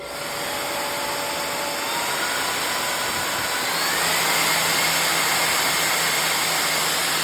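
Second cordless vacuum cleaner with a 650 W brushless motor running continuously up close, a steady whirring whine with a lower hum that rises slightly in level partway through, without any talk.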